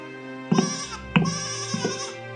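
A young goat bleats several times up close in a cartoon, loud wavering cries with short pauses between them.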